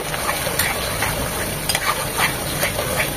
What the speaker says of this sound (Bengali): মশলাটা টক দইয়ের সাথে খুব ভালোভাবে কষিয়ে নিতে হবে।